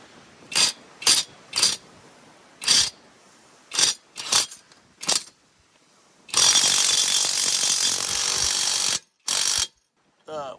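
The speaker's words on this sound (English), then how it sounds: "I got my little impact driver right here." Impact driver working on lug bolts while installing a budget 4-inch lift kit on a Jeep Grand Cherokee: several short sharp bursts, then a long loud continuous hammering run, a brief final burst, close and clear with no talk.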